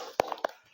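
A classroom doing a cheer clap during a teaching practice lesson, heard as two or three sharp, close hand claps in a short burst with quieter taps between them.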